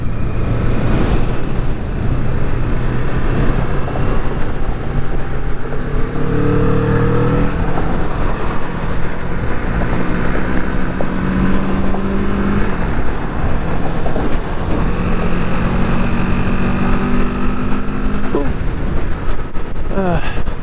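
A 2021 Kawasaki Vulcan S motorcycle cruises on a highway, its engine a steady low drone with rising gear pitch sweeps, heavy wind rush over the microphone throughout.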